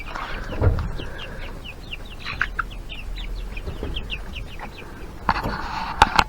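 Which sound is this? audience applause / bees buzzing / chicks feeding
chicks feeding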